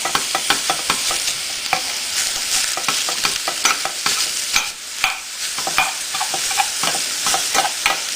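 Ground beef sizzles loudly in a pan, broken up by frequent sharp scraping and tapping of a utensil stirring it.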